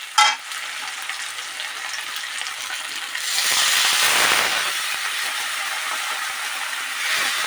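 Water poured into tomato and chili masala frying for a potato and egg curry: a short splash, then a loud rising steamy hiss that swells for a few seconds and settles into a steady simmering sizzle.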